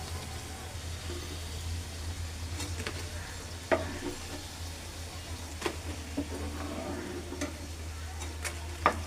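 Spinach puris fry in hot oil with a soft continuous sizzle, a low steady hum underneath and scattered light clicks and taps from handling, fairly faint with no talking.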